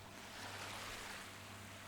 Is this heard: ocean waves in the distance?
yes